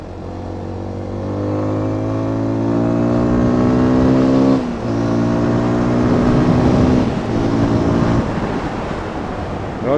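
A 2024 TVS Tekken 250 motorcycle engine drones loudly while riding, rising steadily in pitch as it accelerates, then dropping briefly at gear changes before climbing again, with wind rush and no speech.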